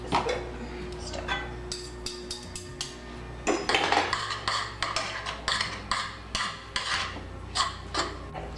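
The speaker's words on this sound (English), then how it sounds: "Now I'm going to add a bit of vegetable broth. I'm going to stir it with this good stuff" Mashed potatoes being stirred with vegetable broth in a pot, a series of soft scraping and clinking utensil strokes against the pan, close but fairly quiet, with brief louder knocks.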